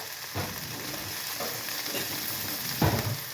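Okra fries slowly over a low gas flame while a spoon stirs it around the pan, giving a soft continuous sizzle with a few muffled scraping strokes, the loudest near the end.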